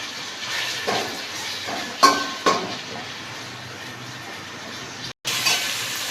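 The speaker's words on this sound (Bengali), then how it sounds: "একটু ভালো করে ভেজে নিচ্ছি, যাতে কাঁচা গন্ধটা না থাকে।" Chopped tomatoes frying in a pan over a slow gas flame, a steady soft sizzle broken by a couple of brief clinks of a utensil against the pan, with no talking.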